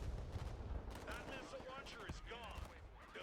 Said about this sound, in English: We're getting heavily hammered by artillery